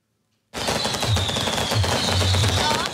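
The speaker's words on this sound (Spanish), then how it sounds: "Fuegos artificiales lanzados en cualquier momento." Illegal fireworks set off in Santiago, Chile, crackle in a dense rapid barrage that starts abruptly after a short silence and keeps popping loudly, with faint whistles under it.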